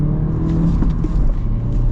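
A 2023 Honda Civic Sport Touring with a manual gearbox hums with a close, steady engine drone, held briefly at revs without a clear rise or fall.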